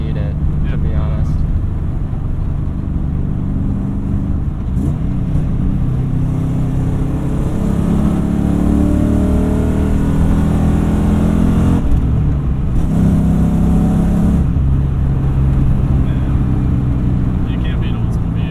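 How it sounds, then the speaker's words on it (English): A 1996 SN95 Mustang GT with a stock V8 pulls hard under acceleration, a loud steady engine drone rising and falling across the clip while people talk over it inside the car. "You can't beat old school V8."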